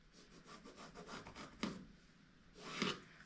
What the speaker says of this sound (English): we're going to draw the line